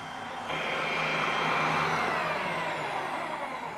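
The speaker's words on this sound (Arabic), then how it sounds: "تمام خلاص كده ضربنا البيض كويس جدا" Electric hand mixer beating eggs for a chateau gateau with crème caramel, a steady close whirring drone that swells slightly after a moment and holds evenly throughout, no speech.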